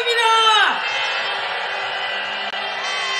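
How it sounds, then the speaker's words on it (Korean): An audience at an outdoor candlelight rally cheers and calls out in welcome to a pansori singer, loud whoops fading after the first second into a sustained crowd roar and clapping. "백금래 선생님을 큰 박수로 맞이해 주시기 바랍니다"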